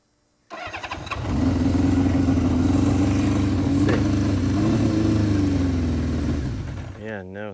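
Engine of a 1978 Honda CB550K motorcycle, a vintage four-cylinder, runs loud and steady at close range for several seconds and rises slightly in pitch without picking up speed, then cuts off near the end, with voices talking over it.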